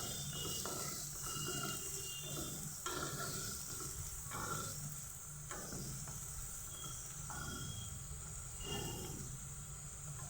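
Fenugreek leaves and peanuts frying in a pan, a continuous sizzle with repeated scraping stirs of a spatula, steady and moderately close with no talk.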